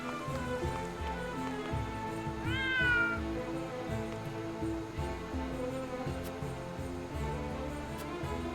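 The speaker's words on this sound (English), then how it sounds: "Oh, there's the cat." A single clear cat meow rises and falls near the middle, heard over a steady game soundtrack of music and ambient tones.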